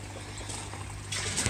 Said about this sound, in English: and also turn the water back into the fish tank.